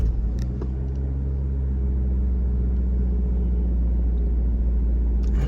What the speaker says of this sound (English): it's really working hard here to just struggle for traction